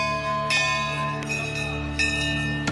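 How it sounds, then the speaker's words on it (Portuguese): Temple bell at Gangotri on the Ganges, rung by pilgrims: three resonant metallic strikes about three-quarters of a second apart, each leaving a long sustained ring that overlaps the next. "Eles tocam o sino como quem avisa a chegada."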